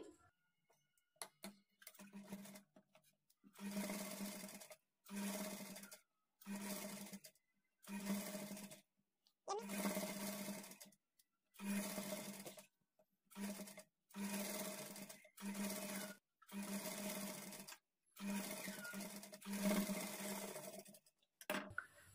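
Sewing machine stitching a hemming strip onto a blouse neck, running in about ten short bursts of steady whirring separated by brief pauses, close and alone.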